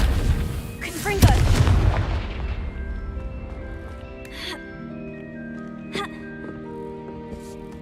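A Confringo blasting curse goes off in the Hogwarts Legacy video game as a loud, close boom at about one second, then a long rumbling decay with scattered crackles and faint chimes trailing off afterward.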